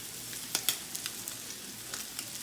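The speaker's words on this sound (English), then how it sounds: "add this chicken to the onions that are sauteing" Chicken pieces sautéing with onions and taco seasoning in a pan give a quiet, steady sizzle, with a few soft clicks and taps from stirring scattered over it.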